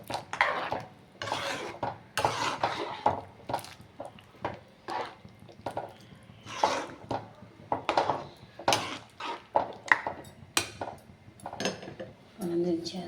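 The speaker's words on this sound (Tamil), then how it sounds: "கலந்து விட்டுறணும்" Dal is stirred into sambar in a cooking pot, with a spoon scraping and clinking against the metal in repeated irregular strokes, close by, while a voice speaks intermittently over the stirring.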